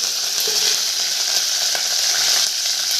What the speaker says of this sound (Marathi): लसूण चांगला लालसर होऊ द्यायचा नंतर कढीपत्ता एकदम फ्रेश कढीपत्ता आहे झाडाचा मस्त एकदम असा तडका बसला पाहिजे